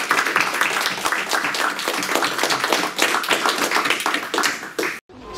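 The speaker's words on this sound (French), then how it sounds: "On va applaudir une fois plus François Broch." An audience at a lecture claps steadily for several seconds, a crisp, lively round of applause that stops abruptly near the end.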